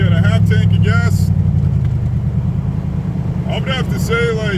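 A Ford Crown Victoria cruises down a highway, its steady low engine and road drone filling the cabin; someone talks over it at the start and again near the end.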